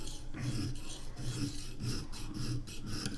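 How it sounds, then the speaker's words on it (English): A knife is sharpened on Vipersharp sharpening stones, giving rhythmic rasping strokes about every half second, close and even, with no talk. "Just let the stones do the work."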